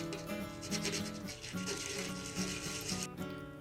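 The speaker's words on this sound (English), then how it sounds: "sand the edges of the shells with sandpaper or a nail file" Peanut shell edges being sanded with sandpaper or a nail file, a soft, close, continuous rubbing and scratching in quick repeated strokes, quiet and alone with no voices.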